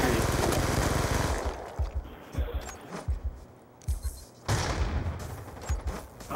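Gunfire from the video game Call of Duty Black Ops 2 on the Plaza map, loud bursts of rapid shots and sharp single cracks in bursts, with a short pause midway before heavy firing resumes.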